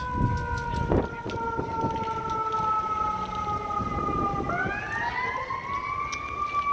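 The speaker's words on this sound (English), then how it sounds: "And it's an ambulance." An ambulance siren wails nearby, its tone sliding and shifting pitch as it passes, over traffic rumble and street noise in downtown Naperville.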